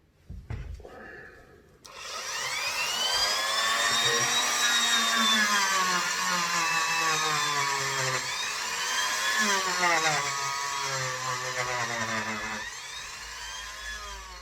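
The wheels of an old Hornby R758 Class 35 diesel model locomotive spin under power, a close, thin whirring motor whine that rises and falls in pitch for about twelve seconds after a few brief clicks.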